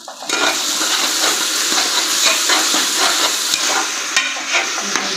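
Mint leaves sauté in hot oil in a pan for home-style biryani, making a loud, continuous hiss and sizzle that runs through the whole stretch, with faint stirring ticks.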